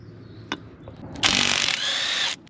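A socket wrench ratchets on bolts of a Jeep axle's backing plate, a brief click near the start, then a bright, busy burst of ratcheting lasting about a second, close and loud, with no talk.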